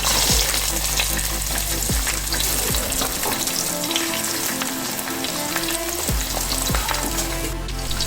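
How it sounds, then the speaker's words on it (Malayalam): Sliced coconut and curry leaves frying in hot oil for a Kerala beef roast, a steady loud sizzle with scraping stirring strokes every second or so throughout, no talking. "നന്നായിട്ടൊന്ന് ലൈറ്റ് ബ്രൗൺ ആവുന്നത് വരെ നമുക്കിതൊന്ന് ഇളക്കി കൊടുക്കാം."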